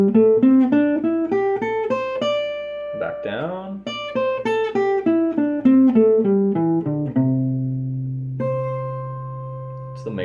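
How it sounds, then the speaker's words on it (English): Guitar picking the major pentatonic scale note by note, climbing and then descending in an even rhythm before ending on a sustained note, clear and close, with a brief spoken interjection partway through. "It's the major pentatonic scale."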